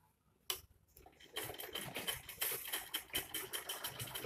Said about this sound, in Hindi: अब हम इस पे सिलाई कर लेंगे